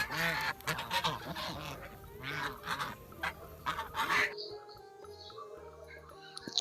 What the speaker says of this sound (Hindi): बत्तख को इंग्लिश में बोलते हैं डक